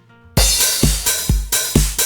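A loud electronic FL Studio beat opens with a crash cymbal wash on the downbeat, then kick, snare and ringing offbeat hi-hats drive a steady pattern.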